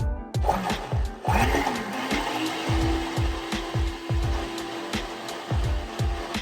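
A small blender whirs with a steady motor hum while making a coconut matcha latte, punctuated by repeated rhythmic knocking thumps as contents bounce around inside.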